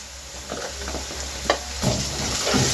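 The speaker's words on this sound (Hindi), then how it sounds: "अब मैंने इसके अंदर ये लहसुन और ये हरी मिर्चें डाल रहा हूँ" Garlic and green chillies added to onions browning in a pan for dhaba-style chicken curry, a steady close sizzle of frying with occasional stirring scrapes and clicks, no voices.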